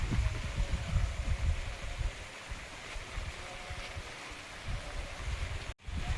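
Steady rain falls outdoors in the evening, a dense, continuous hiss and patter close by with no talking.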